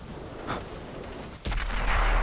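Tank gunfire in World of Tanks on Xbox One: a muffled shot, then a louder boom that rolls into a sustained, rumbling roar, with no speech.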